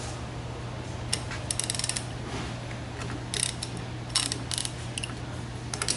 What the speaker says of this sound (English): we're going to loosen these bolts